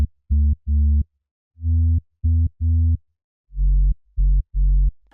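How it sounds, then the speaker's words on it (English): A simple sine-wave sub bass synth plays a rhythmic pattern of short, deep, loud pulses in groups of three separated by silence, clean and without any voices. "We have a sub bass right here that is a simple sine wave from Silent."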